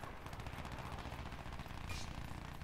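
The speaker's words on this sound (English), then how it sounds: "I'm going to try out the shotgun." Gunfire from the Crysis 3 shooter game, a shotgun in play: a faint, busy stretch of rapid, overlapping shots and action noise that blends into a continuous rattle, with no speech.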